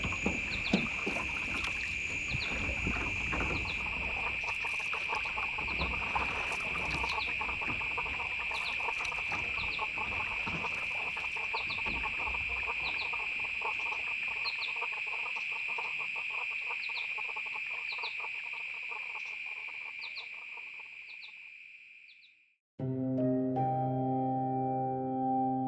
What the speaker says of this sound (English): birds talking to each other,